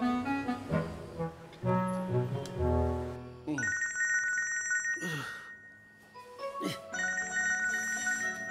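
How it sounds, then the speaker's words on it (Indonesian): A telephone rings in repeated electronic trills, loud and close, with bursts separated by short pauses, after some clattering and mixed household noise at the start. "itu telepon."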